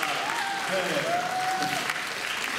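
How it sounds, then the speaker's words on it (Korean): An audience at a musical talk event claps in steady, dense applause that fills the whole moment, with a faint voice briefly audible through it. "박수 한번 부탁드리겠습니다"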